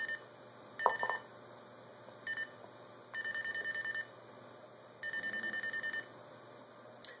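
An Arduino-built blue box sends 600 hertz dial pulse tones in an English AC9-style signalling mode, heard as a short blip followed by four bursts of rapid, evenly spaced tone pulses, each about a second long, separated by quiet gaps.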